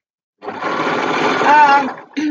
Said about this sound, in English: Yes, I am overlocking or using my serger.